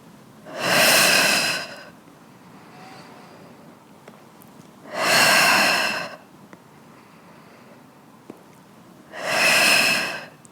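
Three slow, loud breaths during a ball-squeeze exercise, each a long airy rush of roughly a second and a half, evenly spaced with quiet pauses between them, close to the microphone.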